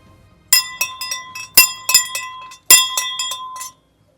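A shrine bell is shaken in several bursts, each bright metallic ringing jangle followed by a short decay, with quiet gaps between the shakes.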